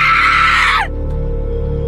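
Woman screaming in a Roblox game scene, a loud high shriek that sweeps downward and cuts off abruptly, followed by a low steady background hum.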